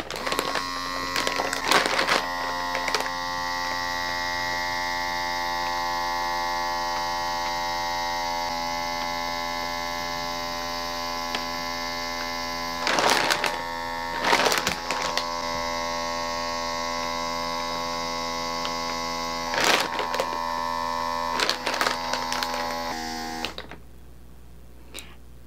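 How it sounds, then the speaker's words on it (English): A Pac N Stack vacuum storage device drawing air out, a loud steady electric motor drone with tonal hum running for over twenty seconds, with occasional rustling crackles, then cutting off near the end. "It's sucking in, vacuuming, whatever, very slowly."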